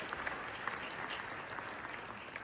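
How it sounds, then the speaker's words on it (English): Faint, distant applause from a conference audience at an affiliate marketing summit panel, a steady wash of many hands clapping throughout. "Please give a great round of applause for everybody here and all their insights."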